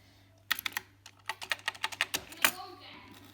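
Keys clack on the keyboard of a 1979 Japanese Commodore PET 3032 computer, a rapid run of sharp, close taps after a brief pause, mechanical and crisp.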